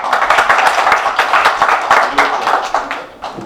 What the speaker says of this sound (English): a special round of applause for them for hosting us as well